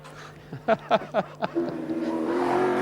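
A Peter Jackson Racing touring car at Bathurst, car number 30, driving toward Forest Elbow; a run of sharp gear-change engine blips is followed by a rising, building engine roar.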